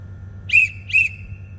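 Two short, shrill whistle blasts in quick succession, used as a crane dogging signal, loud and close against a low hum.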